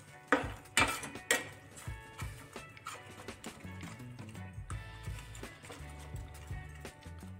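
Masala egg bhurji is stirred and mixed in a pan, making irregular metallic clinks and knocks of a spatula against the pan, loudest at first and then softer and steadier.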